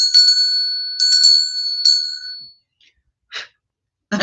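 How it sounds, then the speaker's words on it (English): A small hand bell rings clearly in a quiet room, three bright overlapping strikes in the first two seconds that ring out and fade, followed by faint breathy noises. "Can I ring my bell?"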